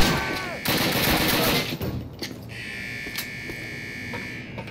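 Alarm going off in the Call of Duty video game, a steady buzzing electronic tone sounding through loud bursts of gunfire before settling into a sustained wail.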